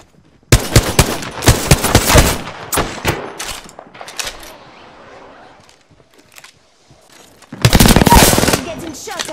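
Automatic weapon fire in Apex Legends: loud, rapid bursts of gunshots at the start, a quieter stretch of scattered shots and movement, then another heavy burst near the end.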